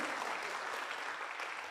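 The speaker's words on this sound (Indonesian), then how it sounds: "tepuk tangan buat One Vision." Audience applause at a network marketing community seminar in Indonesia, a steady, even wash of clapping that holds for under two seconds at moderate, fairly distant level with no talk over it.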